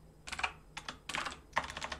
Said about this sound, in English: I'm not very good at typing today